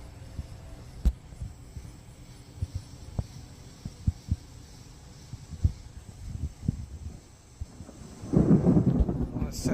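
Thunder rolls from a Cincinnati thunderstorm, a series of low, distant rumbles and thumps spaced irregularly, building into a louder rumble at the end.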